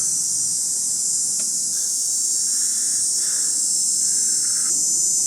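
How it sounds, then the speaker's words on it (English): Loud, continuous high-pitched buzzing of cicadas fills the air without a break, with faint fainter chirps underneath and no talking. "Y'all hear how loud those cicadas are?"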